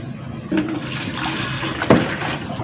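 Water poured from a bucket into an organic NPK fertilizer mix, a close splashing gush with a couple of sharper slosh surges and no talk.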